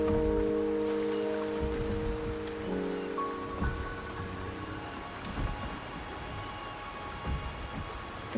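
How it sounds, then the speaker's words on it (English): Steady rain falls in the video game Wuthering Waves, a continuous hiss with faint scattered drops, first under a sustained musical chord that fades after a few seconds. "The rain is subsiding, and the sky will soon clear."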